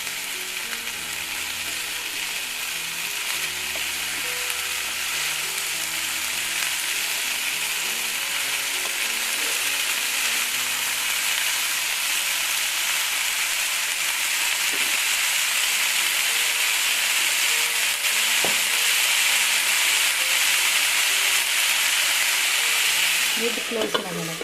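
Steady oily sizzle of green gram usuli frying in a pan, a continuous hiss with occasional clicks and scrapes of stirring near the end.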